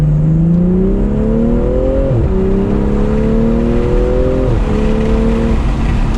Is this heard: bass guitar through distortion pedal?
no